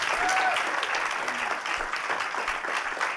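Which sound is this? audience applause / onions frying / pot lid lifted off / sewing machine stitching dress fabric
audience applause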